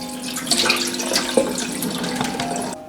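Boiled chicken drumsticks are rinsed under cold tap water in a kitchen sink. The stream splashes continuously and close by, with small surges and clinks as the pieces are turned, and no one speaks.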